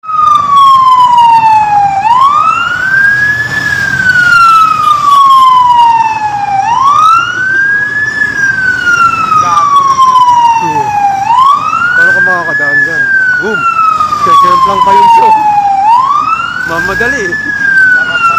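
A loud wailing fire truck siren rises and falls in long repeating sweeps, close by and continuous, with traffic rumble underneath, at a fire on Makati Avenue corner JP Rizal Street, Makati City.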